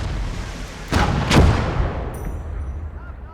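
Two heavy booming shots from an 88 gun firing high-explosive shells in a wartime strategy video game, sharp blasts about half a second apart with a rumbling tail, followed by a faint metallic ring.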